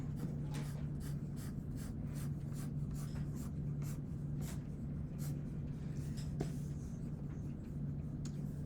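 A pencil scratches crosshatch marks onto paper in rapid, rhythmic strokes, close and quiet over a steady low hum, with no talking.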